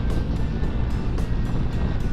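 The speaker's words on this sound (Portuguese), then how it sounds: "É um ventinho persistente o dia inteiro." A constant moderate wind in Patagonia buffets the microphone of a motorcycle rider on the road toward Las Horquetas. It sounds as a heavy, continuous low rumble with gusty swells, loud and close throughout.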